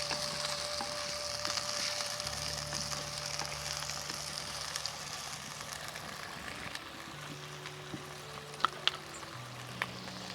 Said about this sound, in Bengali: আমি দুটো তেজপাতাও দিয়ে দিচ্ছি, তেজপাতাটাও এর সঙ্গে ভেজে নেব।